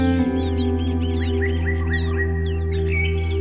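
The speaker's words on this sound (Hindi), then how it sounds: "पक्षियों की मधुर चहचहाहट" Several birds chirp and twitter sweetly in the morning, a busy run of bright overlapping calls laid over a steady, sustained musical drone.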